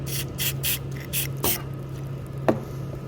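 Lubricant sprayed onto car parts during an Abarth ramair intake install, five quick hissing bursts in a row followed by a single short spritz after a pause, over a low steady hum.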